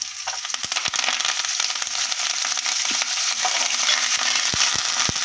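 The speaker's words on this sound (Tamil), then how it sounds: "வரமிளகாயும் கருவேப்பிலையும் சேர்த்துடலாம்." Red chillies and curry leaves fry in hot oil for tamarind rice, a continuous bright sizzle with crackling pops and occasional clinks of a stirring spoon against the pan.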